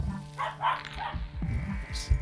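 A dog indoors barks several times in short, uneven bursts, fairly close and moderately loud, over a quiet room.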